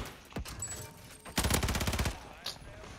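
Rapid burst of gunfire from Call of Duty on Rebirth Island, a dense rattling volley of about a dozen quick shots in the middle, with a few isolated cracks before and after over low game ambience.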